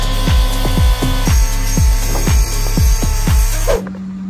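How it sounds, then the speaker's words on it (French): A circular saw cuts through a ball wedged between two shims. It gives a loud, steady whine with rhythmic, repeating bursts of cutting, then stops abruptly near the end. "la boule passe sous la scie circulaire pour sécuriser"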